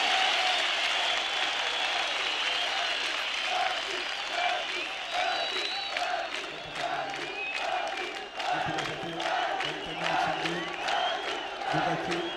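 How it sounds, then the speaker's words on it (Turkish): An audience at a Ferdi Tayfur event breaks into sustained applause and cheering, a dense wash of clapping with scattered shouts and whoops continuing for about twelve seconds. "Alkış, alkış!"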